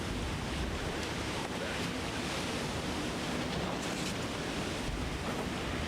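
Heavy sea water surging over the deck of a racing yacht in rough ocean conditions, a steady loud roar of rushing water and wind noise with no clear breaks.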